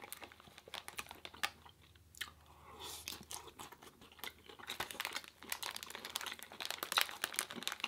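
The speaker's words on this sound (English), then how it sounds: "That is one delicious chip." Crunchy chewing of a crispy chip from a vegan food truck, close-up bites and crinkly mastication in repeated bursts with no talking.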